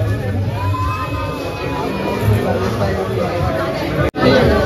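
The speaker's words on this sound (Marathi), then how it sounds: "भाई गर्दी बघा आज किती आहे." Dense crowd of pilgrims at the Khatu Shyam temple, a steady murmur of many voices and chatter close around, with occasional louder shouts and faint traffic in the background.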